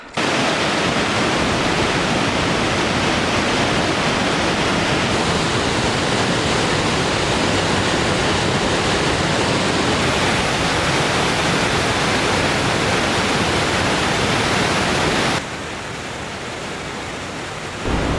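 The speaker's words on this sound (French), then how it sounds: "Ça y est, je suis arrivée à la cascade du pont d'Espagne." Pont d'Espagne cascade waterfall in the Pyrenees in December, a loud, steady broadband roar of rushing water that continues alone throughout, easing slightly near the end.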